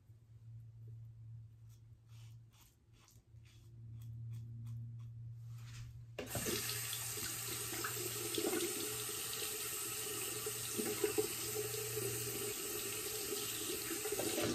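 A tap gushes steadily as a Lambda Athena safety razor is rinsed under the running water, a loud broadband hiss starting abruptly after a quieter hum and continuing nearby.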